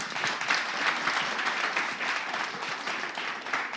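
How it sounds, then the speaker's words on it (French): A live audience at a debate event claps in sustained, dense applause that holds steady throughout, loud and close with no speech on top. "On va les applaudir."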